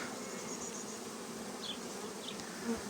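A steady, dense buzz of many honey bees droning together close by at their hive, continuous throughout with no voices.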